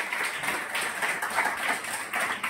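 Dense, steady applause from an audience welcoming guests at an AIDS awareness fortnight event at Lokmanya Tilak college, a close, continuous patter of many hands clapping without a break.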